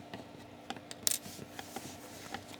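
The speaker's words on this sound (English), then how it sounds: "all I'm going to do is just take my scissors" Scissors snip crochet thread on a beaded ghost bag, heard as a few faint, close clicks and soft snips over quiet room noise, with one brighter snap in the middle.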